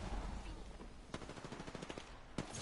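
Bursts of video game gunfire crackle at moderate distance, one sharp shot near the middle and another near the end, with rapid rattling shots between them over a steady background rumble.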